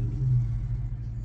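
A car driving past on the road, a low steady engine rumble that swells slightly and then fades, fairly close, with no talking.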